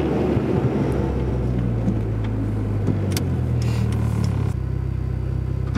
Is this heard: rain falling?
no